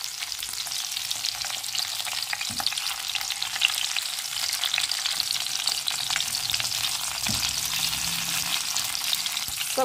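Potato shashlik sticks with vegetables frying in a pan, a steady loud sizzle with occasional soft knocks and scrapes as the skewers are turned over, with no talking.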